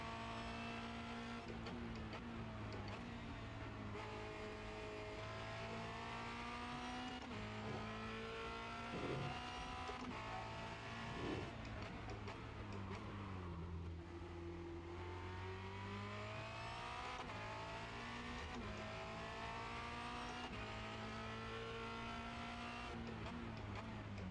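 A Formula Renault 2.0 race car lapping the Circuit de Barcelona-Catalunya, its engine droning loud and steady from onboard, pitch falling through downshifts and climbing again as it accelerates, with brief tire noise.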